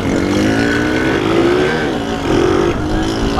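A motorcycle with a modified exhaust revs loudly up close, its throaty engine note rising and falling through a few quick throttle blips.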